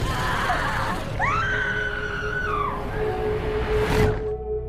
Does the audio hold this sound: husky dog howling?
no